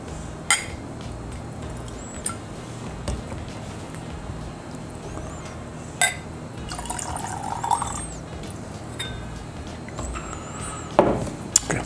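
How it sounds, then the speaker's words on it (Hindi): Water poured in small amounts into two glasses of whiskey, soft trickles and drips broken by a few light clinks of glass, faint and close in a quiet room with no talking. "थोड़ा थोड़ा पानी ऐड कर लेता हूँ मैं इन दो whiskies में"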